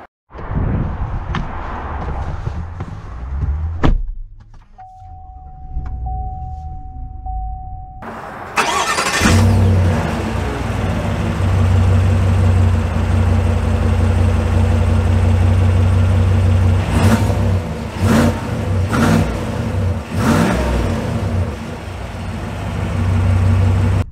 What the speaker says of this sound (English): So we are setting off here in the GMC Sierra